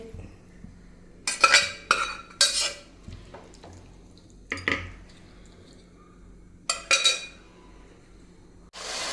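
Cooked beef moved from a pressure cooker into an uruli pot, several loud clattering scrapes and clinks of a metal spoon against the vessels, separated by quiet pauses.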